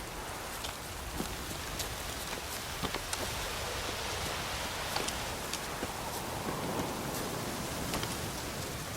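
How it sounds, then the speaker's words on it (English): Steady rain falls in The Witcher 3, a soft, even hiss of drops on surfaces with occasional sharper patters, heard alone at moderate distance. "Looks like rain."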